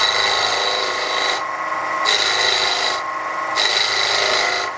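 A wood lathe tool cuts a square bowl, giving a harsh, rasping scrape that pulses in regular on-off bursts as the spinning corners meet the tool, close and steady.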